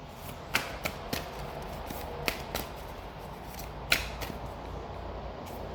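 Tarot cards being shuffled by hand at close range, with a few sharp riffling snaps and soft flicks spaced irregularly against a quiet room, no talking.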